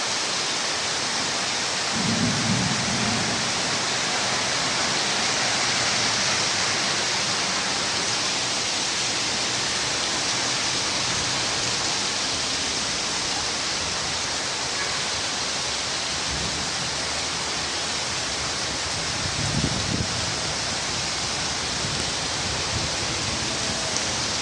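Heavy rain pours in a dense, steady roar, with low rumbles of thunder rising briefly near the start and again toward the end, no voices heard.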